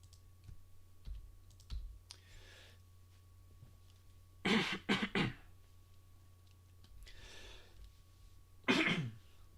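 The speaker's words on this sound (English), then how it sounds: "Sorry for all the coughing." A few sharp coughs burst out near the mic, a pair in quick succession midway and another later, between quiet stretches with faint clicking.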